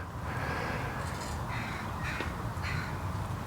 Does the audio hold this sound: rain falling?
no